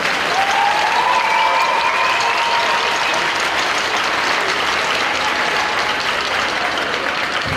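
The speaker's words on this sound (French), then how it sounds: "Je pense qu'ils méritent tous une belle main d'applaudissement." Loud, dense audience applause fills a large event, sustained evenly throughout with a whistle rising briefly over the crowd.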